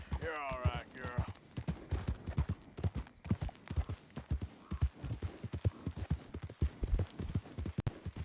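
Horse hooves clip-clopping in Red Dead Redemption 2 in a steady, even walking rhythm, fairly close, with a short whinny at the start.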